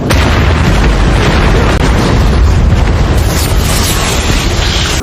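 A ship blowing up in a film, heard as a loud, sustained explosive roar with rumbling booms and crackling bursts that fills the whole stretch without letup.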